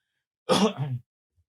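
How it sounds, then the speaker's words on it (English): One short, throaty cough on a podcast, close to the microphone, a single burst lasting about half a second amid otherwise quiet surroundings. "that's the first cough we've had on this podcast in like years."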